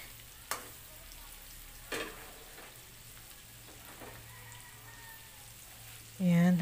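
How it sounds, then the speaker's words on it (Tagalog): Garlic stirred as it fries in a hot pan, a faint low sizzle with a couple of soft clacks of the utensil and a louder scrape at the end, no talking. "Lagay na natin yung bawang. Halu-haluin natin."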